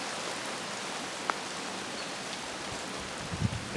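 Steady rain falls outdoors in the Manitoba woods during a spring bear hunt, a constant dense hiss with a couple of faint isolated knocks near the end.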